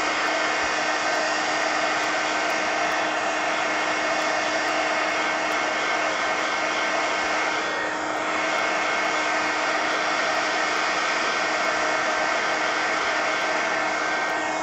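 A hair dryer blows steadily and loudly at close range, drying freshly painted art cards in orange, teal and sienna, with one brief dip partway through.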